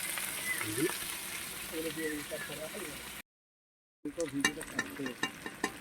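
Food frying in a pan at a rainy-season home picnic, a steady sizzling hiss with intermittent stirring scrapes, broken by a brief gap, with people talking over it.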